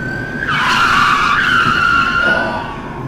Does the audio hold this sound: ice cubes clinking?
no